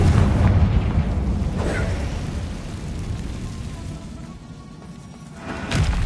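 A Confringo spell explodes in the Hogwarts Legacy video game with a deep, rumbling boom that tails off slowly, followed by a second sharp burst near the end.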